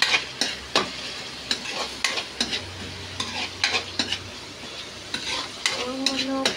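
Garlic sautéing in a pan alongside shrimp, with a soft sizzle under repeated sharp clanks and scrapes of a utensil stirring against the pan, close up and without talk.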